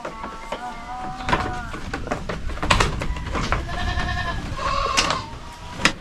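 Goats on a farm, including breeding does, give several short, wavering bleats at close range, overlapping one another with some background noise between the calls.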